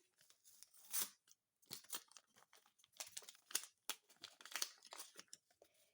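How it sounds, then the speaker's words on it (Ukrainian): Soft, close crinkling and rustling of paper as a small packet is torn and opened, in short irregular bursts. "Ось такий у нас пакетик, давайте його відкриємо."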